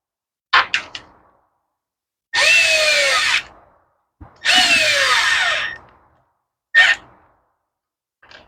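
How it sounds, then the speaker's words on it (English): A screw gun drives carburetor studs on a Husqvarna weed eater in two sustained whirring runs of about a second each, nearby and loud, framed by short trigger blips and clicks. "if you're using a screw gun to do this, make sure you get the first thread started"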